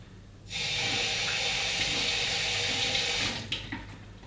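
Water pours steadily from a kitchen tap as hands are wetted, a continuous broadband rush that starts abruptly, holds for about three seconds, then cuts off, followed by a few faint clicks and handling noises, no talking.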